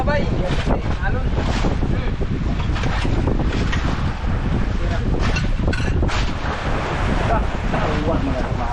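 Open sea waves rock a small boat under heavy wind buffeting the microphone, with a continuous loud rush of water and gusts and voices faintly audible underneath.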